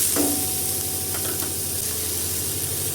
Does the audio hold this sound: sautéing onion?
yes